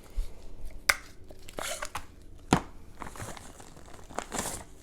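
A plastic ration packet from a 1970s long-range patrol beef stew menu is handled up close, with crinkling, a couple of sharp snips or tears, and rustling as the bag is worked open.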